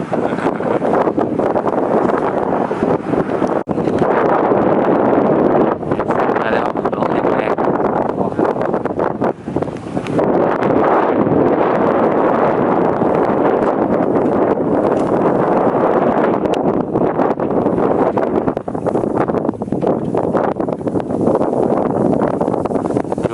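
Strong outdoor wind buffets the microphone near a banana stall, a loud continuous rumbling roar that swells and dips throughout, masking any other sounds, with no talk.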